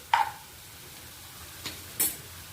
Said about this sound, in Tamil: கீரையெல்லாம் இப்படி ஓரமாக தள்ளிட்டு